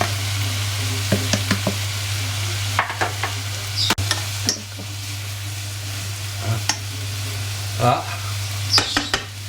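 A ham roast goes into a pot with tomatoes and parsley and sizzles steadily, with scattered clinks and stirring knocks over a constant hum, and a brief word spoken once.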